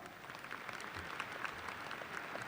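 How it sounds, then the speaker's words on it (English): An audience applauds at the Murray State University December 2016 commencement, a soft, distant wash of many hands clapping that stays steady for a couple of seconds. "Let's give them a round of applause."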